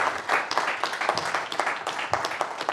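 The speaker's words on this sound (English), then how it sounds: "a big BSides round of applause for Rick" Audience applause at a BSides Newcastle security conference talk, a dense, lively spread of clapping from a modest crowd filling the room for a few seconds, with a voice briefly audible beneath it.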